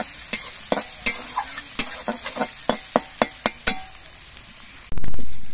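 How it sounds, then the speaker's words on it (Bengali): Garlic, green chillies and nigella seeds sizzle in a pan while a spatula clinks against it in a steady rhythm, ending in a sudden louder burst of frying. "এবার সব কিছু বেশ ভালো করে ভেজে নিতে হবে"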